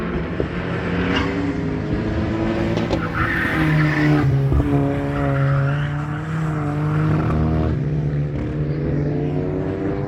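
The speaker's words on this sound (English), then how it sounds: "It sounds like it's breaking up a lot under heavy acceleration" A loud Formula-K race car engine revs hard and continuously, breaking up under heavy acceleration, its tone sputtering and wavering unevenly, with tire noise mixed in.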